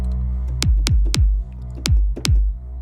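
Five deep, booming kick drum hits from a Kontakt sampler, with pitch-dropping thumps, played in two quick groups over a low sustained hum.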